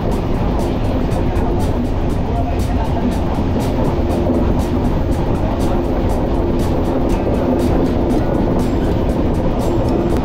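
The Kanchankanya Express rumbles along the tracks, a loud continuous roar of wheels and carriages with rhythmic rail clicks running through it.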